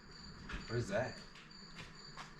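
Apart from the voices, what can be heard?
crickets chirping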